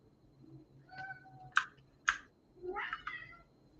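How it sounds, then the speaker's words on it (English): Ruby, a pet cat, lets out several complaining meows close by, drawn-out and plaintive, mixed with quick light clicks of computer keyboard typing in a quiet room. "That's Ruby, in case if you're hearing a cat who sounds like he's complaining."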